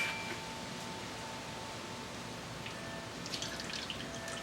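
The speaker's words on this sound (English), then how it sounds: "Actually, I got to drain a little bit more here. I don't want a lot of liquid in this." Liquid drains and drips from homemade salsa in a kitchen, giving a soft steady trickle with a few closer, brighter splashes near the end; no talk.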